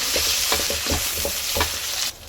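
Onion and garlic frying in hot oil in a pan give a steady, close sizzle, with soft stirring scrapes recurring through it until the sound cuts off near the end.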